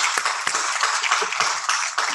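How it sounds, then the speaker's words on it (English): An audience at an education award ceremony gives a round of applause, a steady wash of many hands clapping with some sharper individual claps. "A good round of applause."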